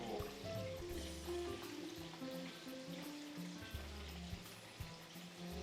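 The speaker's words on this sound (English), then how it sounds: "And don't forget to check what's frying." Buttermilk-coated chicken pieces frying in hot oil, a steady soft sizzle and crackle running throughout at low level, with faint background kitchen noises.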